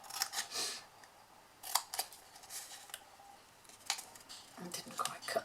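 Scissors make several short, crisp snips through an Aero chocolate wrapper, close and fairly quiet, with brief crinkles between cuts and pauses in between.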